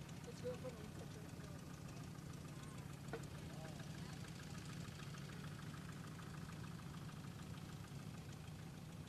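Allis-Chalmers WD9 tractor engine idling at a threshing show, a steady low, faintly knocking chug that runs throughout, with an announcer's voice audible in the background.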